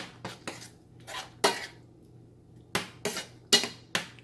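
Spoon stirring sweet mango curry in a pot, a series of close metallic scrapes and knocks in irregular bursts with short quiet gaps, no speech.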